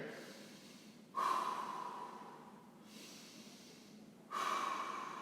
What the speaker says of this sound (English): we're going to take some nice deep breaths here